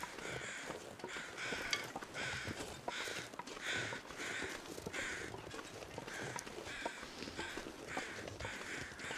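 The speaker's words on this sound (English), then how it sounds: "All right, crows, we're coming." Crows caw repeatedly at a distance in the snowy wilderness of The Long Dark's Pleasant Valley, with rhythmic bursts of calls over steady wind and crunching movement.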